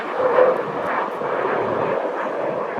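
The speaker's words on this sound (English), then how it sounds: "Sorry, there was a fighter jet." A fighter jet flies over near a beach by the water, a loud, steady broadband roar that fills the whole stretch without a break, with no talking over it.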